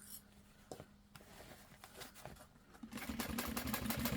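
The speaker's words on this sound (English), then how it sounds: "now I'm going to stitch this on at 3/8 of an inch" A sewing machine stitching waterproof canvas for a LindSport mini backpack pattern at 3/8 inch, starting with quiet handling clicks and then a steady, faint mechanical whir of rapid stitching.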